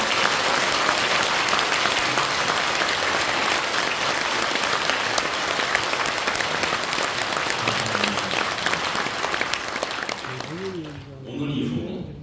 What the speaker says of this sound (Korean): 우리 한리총을 지키신 목사님들에게 우리가 깊은 감사의 박수를 치겠습니다